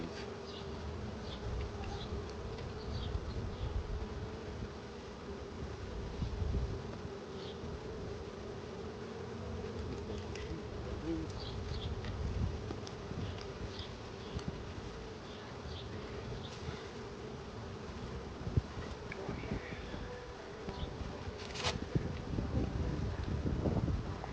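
Dense, continuous buzzing of many honeybees around a hive, a steady drone with wind rumbling against the microphone and occasional nearer passes.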